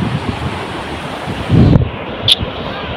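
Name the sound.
sea waves coming in at the beach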